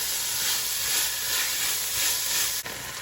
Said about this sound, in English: we're gonna let this saute for about 5 minutes till it gets nice and translucent